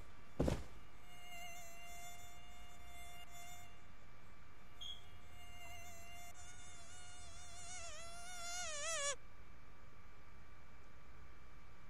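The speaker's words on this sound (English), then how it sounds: "Is there a fly buzzing around my face?" A fly in the horror game Anti-Horror buzzes around in a thin, steady whine that runs for about nine seconds, wavering and rising in pitch as it swoops close before cutting off, after a sharp knock at the start.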